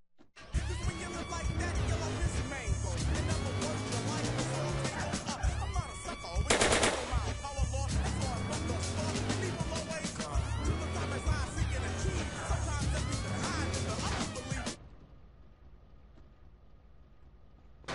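Dense rapid gunfire fills GTA San Andreas gameplay, continuous rattling bursts with a louder blast in the middle, cutting off abruptly to quiet near the end.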